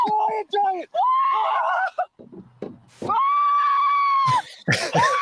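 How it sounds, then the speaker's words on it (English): A man screams and yells in excitement during a kayak fishing catch, played back from a recording: long, strained, sustained cries broken by short gasps, with a few shorter yells near the end. "Dude, the screaming gets me every time."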